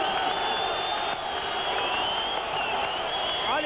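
Boxing arena crowd in Priština cheering at a professional bout, a dense, continuous roar of many voices with scattered applause, steady and loud throughout.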